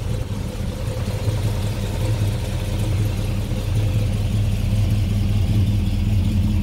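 Steady, close rumble of a Chevrolet Chevelle's 350 V8 with an automatic transmission, running smoothly and strongly at a constant idle on a hot day.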